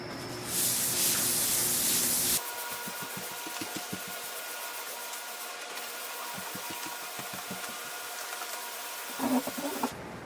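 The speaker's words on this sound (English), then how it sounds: "400 grit sandpaper." Parchment is sanded with 400 grit sandpaper: a loud hiss opens, then a run of repeated short rasping strokes follows at a steady pace, close by, with no talk.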